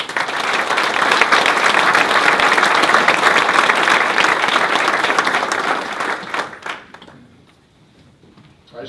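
Sustained applause from an audience at a county State of the County address, a loud, dense clapping that holds steady for several seconds, then fades out to near silence.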